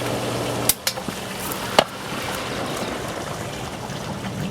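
Pool sand filter running with water circulating, a steady rushing, trickling flow heard throughout, broken by a few sharp clicks or knocks early on.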